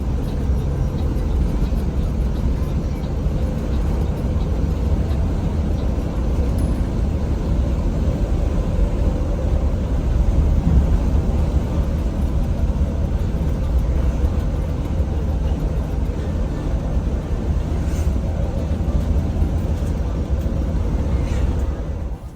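Inside an ALS long-distance bus travelling from Bogor to Medan, a steady, heavy low rumble of engine and road noise drones on without a break, with no talk.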